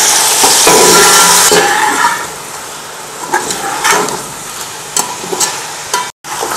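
Reserved meat pieces browning in a pot with white cumin seeds for a pulao, a loud hiss that flares as they hit the oil, then a steadier crackle broken by utensil scrapes and knocks.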